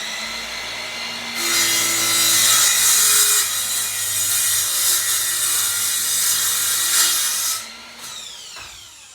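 A RYOBI 7 1/4 inch cordless miter saw spins up and cuts through a 2x4 in one loud, sustained whining pass of about six seconds, then winds down with a fading spin.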